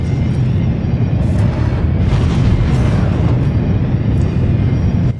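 A video game missile strike explodes into a loud, sustained rumbling boom, dense and continuous for several seconds before cutting off abruptly.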